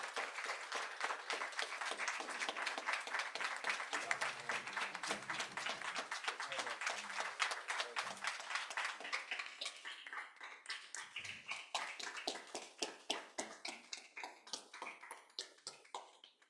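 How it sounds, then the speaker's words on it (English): An audience at a school board meeting applauds a Teacher of the Year, a sustained round of crisp, scattered clapping that slowly thins and fades toward the end. "give him a warm round of applause"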